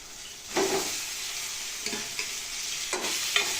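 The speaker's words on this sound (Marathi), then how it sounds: "वांगी घालायची आणि परतायची." Brinjal stir-fried with onion and tomato in a pan gives a soft continuous sizzle, broken by several short bursts of scraping and stirring from a spatula against the pan.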